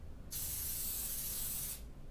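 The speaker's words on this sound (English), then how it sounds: "we're going to have to spray this on here" A spray can hisses food-safe spray paint onto food in one continuous burst of about a second and a half, close and steady, with no talking.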